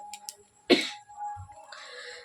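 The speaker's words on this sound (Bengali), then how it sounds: "ছেলেও খুব কাশছে" A child coughs once, a short rough burst close by, set among faint household noises and small background clicks.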